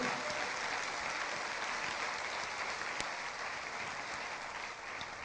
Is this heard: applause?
yes